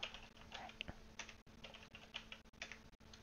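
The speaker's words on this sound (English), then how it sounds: "I'm going to type in this cheat code." Quick, uneven keystrokes on a computer keyboard as a cheat code is entered while playing SimCity 2000, clicking in short bursts with brief pauses, close and fairly quiet, with no voices.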